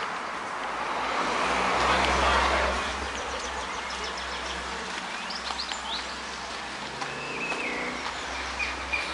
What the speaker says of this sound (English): It's very noisy along this road